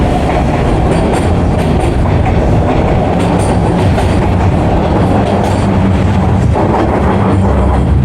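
Loud, constant rumble and roar of a moving Toronto subway train heard from inside, with rhythmic wheel clatter and occasional faint squeals over the steady din.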